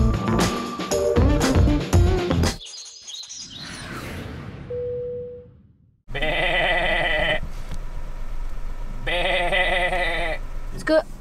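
Sheep bleat in a set of harsh, wavering calls, with a couple of separate bursts in the second half, following a stretch of mixed outdoor sound and a brief high whistle-like tone.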